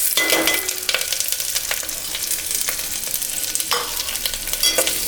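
Shallots with black pepper and cumin fry in a pan for a dal curry. The sizzle is close and crackling, with repeated spatula stirs and scrapes coming in irregular bursts and no voices.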